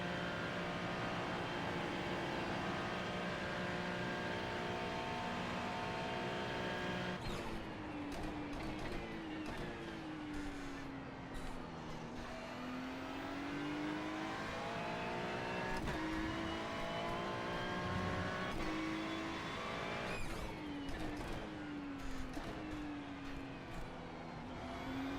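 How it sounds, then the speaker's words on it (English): A faster race car in the IMSA Daytona endurance racing game closes in and passes twice, its engine whine sweeping up then falling as it goes by over the player's own steady engine drone. "There's a faster car approaching."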